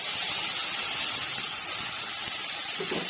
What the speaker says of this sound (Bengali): আলু ভাজার তেলে এখন আমি ভেজে ফেলবো উচ্ছে কুমড়ো ভাজা।